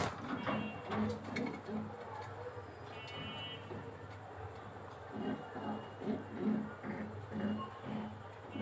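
Racing homer pigeons coo softly in repeated low, throaty pulses at a loft. Faint rustling and background noise sit under the calls.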